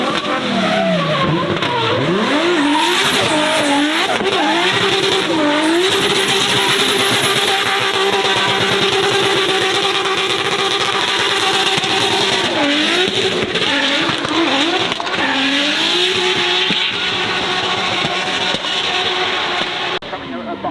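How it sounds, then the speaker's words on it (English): Nissan Silvia driven hard at the Goodwood Festival of Speed, its engine loud and near, revving and rising in pitch with tire squeal, over a constant roar of crowd and event noise. "look, it's a Nissan Silvia."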